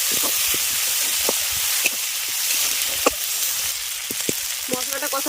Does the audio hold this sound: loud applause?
no